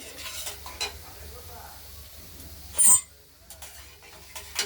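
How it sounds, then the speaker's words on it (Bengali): Spices and turmeric sautéing in a pan for rohu fish curry with potato and tomato, faint sizzling with intermittent spatula scrapes and one louder clatter midway. "এবার মশলা আর হলুদ মিশিয়ে দিয়ে দিলাম কষানোর জন্য"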